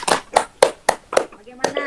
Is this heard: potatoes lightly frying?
no